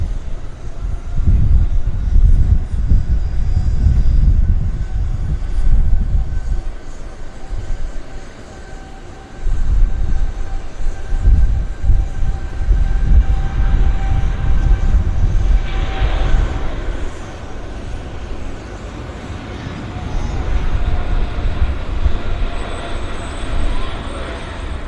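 An Air Canada airliner rolls for takeoff at Vancouver Airport, a broad, distant jet roar that swells and wavers over about twenty-five seconds, with a person speaking intermittently.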